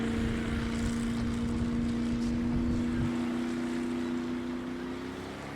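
A boat engine runs at full throttle in a steady, loud, continuous roar with a strong droning hum, wind and water noise mixed in, fading slightly near the end.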